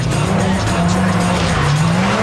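A Lotus 211 sports car oversteers with traction control switched off, its engine droning steadily and loudly while the tires squeal and skid without a break.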